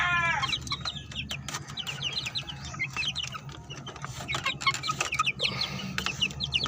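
A Kanawayon hen clucking in repeated short, bright bursts, fairly close, alongside other farmyard fowl calls and a low background hum.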